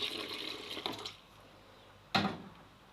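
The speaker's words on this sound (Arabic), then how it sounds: "نزيدو ليها الماء" Water pours into flour for bread dough, a soft trickle that stops after about a second, then a brief louder splash near the end, close and fairly quiet.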